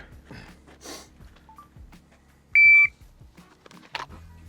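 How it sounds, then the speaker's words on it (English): A single short electronic shot-timer beep sounds clearly during a concealed-carry pistol draw drill, amid quiet shuffling and faint movement noises. "I'll take you on the beep."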